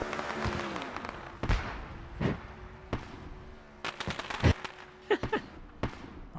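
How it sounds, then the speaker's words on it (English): Low-grade fireworks go off at Irwindale Speedway following a sprint car race win, a string of sharp cracks and dull booms at uneven intervals, several bunched near the end, over a steady background hum. "Those are some low-quality fireworks."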